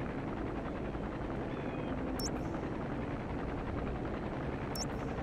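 Steady, loud whirring rotor drone with a deep rumble, holding evenly throughout like a support helicopter hovering close by in Metal Gear Solid V, with no talking.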